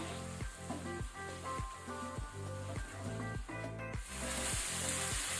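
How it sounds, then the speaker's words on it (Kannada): Masala fries in oil in a pan over a medium flame for a king fish masala fry, giving a continuous close sizzle with faint tonal sounds running beneath it. "ಮಸಾಲೆಯನ್ನು ಎಣ್ಣೆ ಜೊತೆ ಒಳ್ಳೆ ರೀತಿ ಫ್ರೈ ಮಾಡಿದನು"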